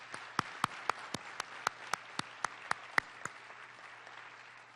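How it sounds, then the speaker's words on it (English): Sparse applause at a city council meeting in Ottawa after a bell performance: about a dozen separate sharp claps in an even rhythm, fairly faint and quiet, with no talk. "Let's give them another round of applause."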